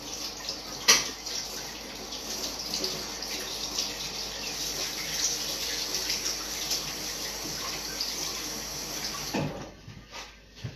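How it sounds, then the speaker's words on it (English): Tap water runs steadily into a kitchen sink while a spoon is rinsed underneath, a constant close splashing hiss with small clinks, ending with the flow shut off and a brief clatter. "what we'll do is just wash the spoon slightly."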